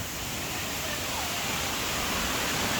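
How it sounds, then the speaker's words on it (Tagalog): A waterfall roars in a broad, steady rush of white noise that fills the whole clip, loud and close, with no clear talk over it. "So, ito yung falls na pinipicturean ko dun."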